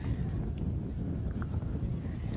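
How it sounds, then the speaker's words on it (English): Wind blowing over the microphone at an outdoor men's ultimate frisbee match, a steady low rumbling buffet throughout with no clear voices. "Wind is definitely back"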